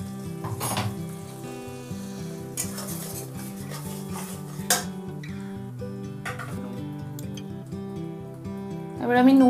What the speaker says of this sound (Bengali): এখন তেলেতে গরম মশলা, গোটা গরম মশলা দিলাম, দিয়ে এবার বেটে রাখা নারকেলটা দিয়ে দিলাম।